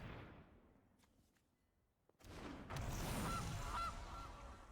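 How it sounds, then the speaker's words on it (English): A goose card played in the Magic: The Gathering Arena digital card game sounds off with a loud honking goose call, alone after a quiet stretch, with fowl cries and bursts filling the last half. "So I'll play the goose"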